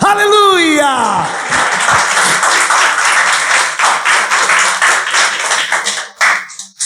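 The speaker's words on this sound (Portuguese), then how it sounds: "Você pode aplaudir esse Deus?" A church congregation claps loudly and energetically after a preacher's call, beginning under a voice crying out, then continuing as dense, close, rhythmic applause before thinning at the end.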